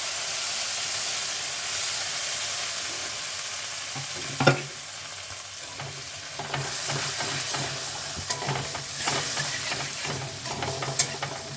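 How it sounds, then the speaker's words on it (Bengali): Black cumin seeds frying in oil in a wok, a close, steady sizzle and hiss with a sharp clink near the start, then scraping stirs and bursts of crackle. "কড়াইতে যেটুকু তেল আছে তার মধ্যে আমি ফোড়নে দিয়ে দিলাম কালো জিরে"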